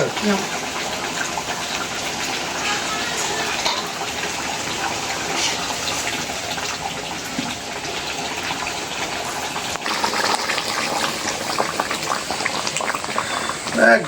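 Snakehead fish curry cooked with ground spice paste simmers in a pan, giving a steady, dense bubbling and hissing sizzle throughout, with a voice speaking softly underneath.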